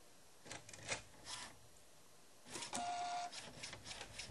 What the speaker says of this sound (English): I'm going to let you hear the rotation.